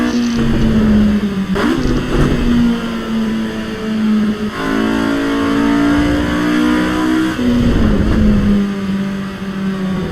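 Honda Civic mod car engine in the Assetto Corsa Evo racing game, loud and continuous, revving up and down through gear changes, with the pitch climbing steadily then dropping as the revs fall.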